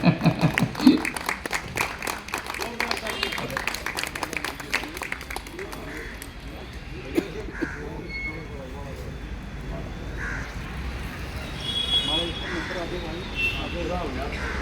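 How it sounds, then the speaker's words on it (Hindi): Guests at a family retirement celebration clap loudly and rapidly for Ashok Bhai, a former village sarpanch. The dense clapping fills the first several seconds, then thins out as people talk nearby. "जोरदार तालियां अशोक भाई के लिए"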